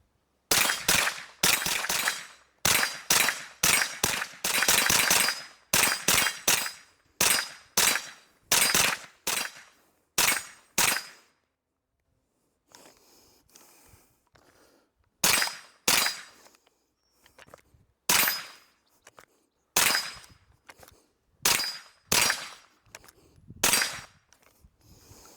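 A Lucansky Arms Divided Matter gun is fired in a string of sharp, loud shots. Rapid strings come first, then a pause, then slower single shots with short gaps between them.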